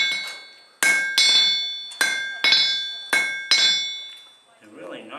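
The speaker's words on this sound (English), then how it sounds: "With hammer in hand and working the red-hot iron, he focused on making it exactly the way he would really like to see it" A blacksmith hammers red-hot iron on an anvil, with about seven sharp, ringing metallic strikes in a steady rhythm, each decaying before the next, close and loud.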